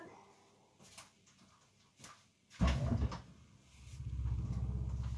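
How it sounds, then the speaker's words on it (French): A door opened in a workshop while applying a protective coating to kiln shelves, heard as a sharp burst of rattling and scraping midway, followed by a louder low rumble from outside. "Je vais même ouvrir ma porte"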